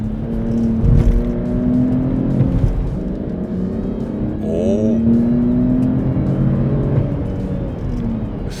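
Loud, continuous Mercedes-Benz GLE 450 engine drone in sport mode, heard from inside the cabin, climbing in pitch as it accelerates, dropping briefly, then rising again.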